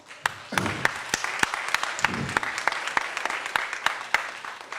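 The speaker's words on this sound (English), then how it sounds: "I want to give them one more round of applause." Scattered clapping from an audience at a youth graduation ceremony in St. Louis, individual sharp claps standing out over a softer background of applause, with a couple of brief low voices underneath.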